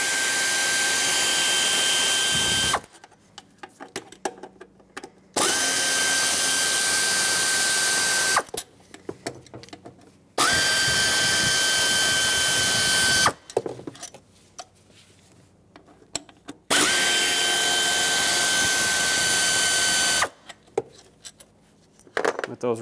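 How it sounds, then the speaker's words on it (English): Four long bursts of a loud whirring power ratchet or socket tool removing 8 mm bolts holding a throttle body onto the intake of a Mazda 6, each burst lasting several seconds with quiet clinking and handling between. "Use an 8 millimeter socket and remove the 4 bolts that hold the throttle body onto the intake."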